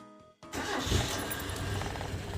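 A rebuilt Mazda 323 engine starts for the first time, with a short cranking burst then a sudden catch into a loud, rough running roar close by, the distributor loose and timing unset.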